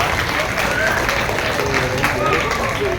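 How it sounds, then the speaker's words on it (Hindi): Steady crowd applause at a Congress political rally in Charminar, a dense continuous wash of clapping and cheering voices that holds level throughout without a break. "तालियां।"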